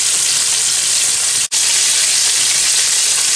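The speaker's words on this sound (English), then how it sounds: "put it in the oil and fry it" Grey snapper steaks frying in hot oil give a loud, steady hiss and crackle that carries on without pause, broken only by a momentary dropout, with no voices.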